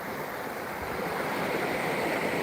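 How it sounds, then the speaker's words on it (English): A little waterfall flowing, a steady close wash of rushing water with no pauses, fairly loud and unbroken throughout. "Little waterfall."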